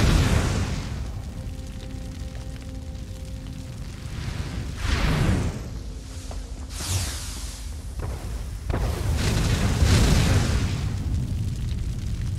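Fire traps igniting inside an underground tomb in Elder Scrolls Online: repeated whooshing bursts of flame with low booming swells, steady and fairly loud, with no voices.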